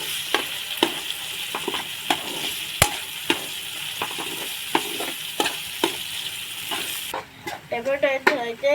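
Tomatoes cooking in a pan for cauliflower masala, a steady sizzle broken by repeated sharp spoon taps and scrapes as they are stirred, with a brief busier stretch at the end.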